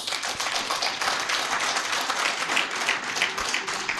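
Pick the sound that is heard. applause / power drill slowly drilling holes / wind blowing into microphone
applause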